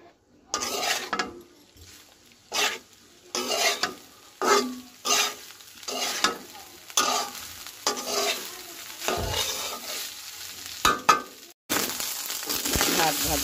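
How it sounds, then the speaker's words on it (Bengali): Leftover rice stir-fried in a pan with browned onion, salt and turmeric, giving a series of scraping, tossing stirs over a soft sizzle, close and moderately loud with brief pauses between strokes. "3-4 মিনিট এভাবে ভুনা করলে ভাত ভুনা হয়ে যাবে বা ভাজা।"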